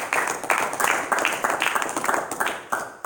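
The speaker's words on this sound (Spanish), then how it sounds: "Denle un aplauso a nuestro Señor Jesucristo." A church congregation claps in a dense, rhythmic burst of applause, steady and fairly close throughout, with faint voices mixed in.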